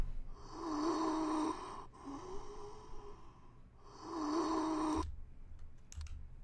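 Heavy, slow in-out breathing of a lurking figure in the game I'm on Observation Duty, close and loud in long drawn wheezing waves, with a brief gap between breaths and faint clicks afterward.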